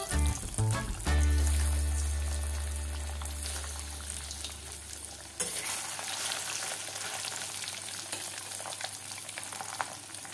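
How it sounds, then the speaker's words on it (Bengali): Hilsa fish pieces drop into hot oil in a kadai and set off a loud, steady sizzle that crackles continuously, with a low hum underneath that fades partway through and no talking. "এই গরম তেলের মধ্যে আমি মাছগুলো দিয়ে দিচ্ছি।"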